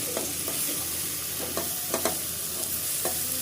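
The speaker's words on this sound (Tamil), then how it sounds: "இப்போ தக்காளி போடணும்" Tomatoes frying in a pan for vada curry after ginger-garlic paste and green chilies, with a steady sizzle and several distinct spoon scrapes as they are stirred, close and fairly quiet.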